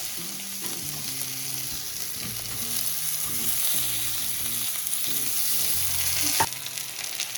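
Chopped tomato fries with onions in a pan, giving a steady close sizzle and hiss with occasional soft stirring scrapes and one sharper knock near the end.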